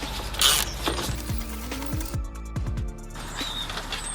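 Torx socket works loose the hood latch screws on a Mercedes-Benz, a series of close ratcheting clicks and soft metallic scrapes against a low background hum.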